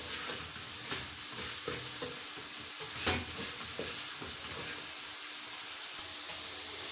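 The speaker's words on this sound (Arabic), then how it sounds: "اقلب الرز هنا برده" Rice being stirred in a hot pan, soft scraping strokes over a steady gentle sizzle, close and moderately quiet, with a few louder scrapes.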